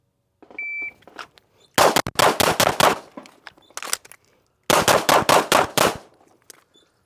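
A Glock pistol fitted with a Trigger Tech trigger fires two rapid strings of sharp, loud shots, roughly five to six each, split by a pause. A shot timer beeps before the first string.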